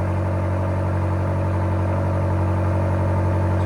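A 2023 BMW XM with its 4.4L twin-turbo V8 idles with the Borla ATAK exhaust and X-pipe valves open, giving a deep, steady rumble with a low throb, close and constant, with no talking.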